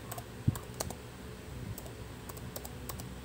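Quiet typing on a computer keyboard, a loose string of light clicks and key taps at close range with no talk, ending in a louder knock.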